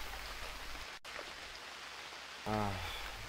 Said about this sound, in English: the rain will ease a bit soon.